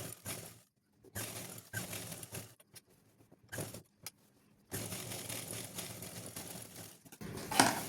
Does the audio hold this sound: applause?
no